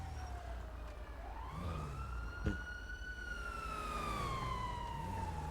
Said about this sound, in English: Sirens. I hear sirens.